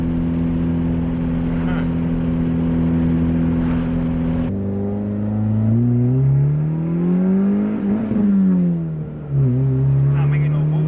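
A Honda D15b engine with an eBay turbo kit drones loudly, then climbs in pitch through a gear pull, dips at a shift and rises again, with a voice over it.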